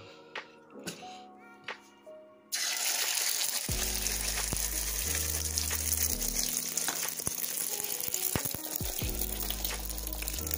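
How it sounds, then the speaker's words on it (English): Eggs dropped into a hot skillet set up a loud, steady sizzle that begins suddenly after a few quiet clicks and handling sounds, crackling on without a break under faint background hum. "Then skillet probably hot enough. And we're gonna drop them eggs in there."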